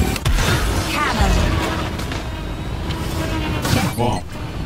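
Cannon fire in the futuristic racing game WipEout Omega Collection, heard as a rapid rattling of shots layered over a constant loud engine roar and music, with a short punchy burst near the end.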